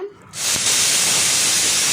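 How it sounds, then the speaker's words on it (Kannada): A pressure cooker vents a loud, sustained steam hiss as its whistle releases during cooking of tomato bath, bursting in sharply after a brief quiet moment and holding steady at full strength. "1 ನಿಮಿಷ ಬಿಟ್ಕೊಂಡು ಈಗ ನೋಡಿ ಕುಕ್ಕರ್ ಕೂಗಾಯಿತು."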